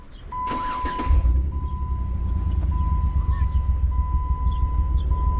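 A car engine cranks and catches, then settles into a steady, rumbling idle close by, with a faint high chime tone running through.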